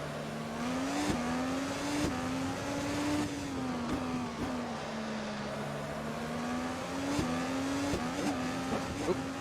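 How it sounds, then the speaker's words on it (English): Race car in the Automobilista sim, an OSR IndyCar IR18 on the Baltimore street circuit, droning steadily at high revs with a few sharp knocks as it bounces off a wall, a faint voice underneath. "Oop, bouncing off a wall."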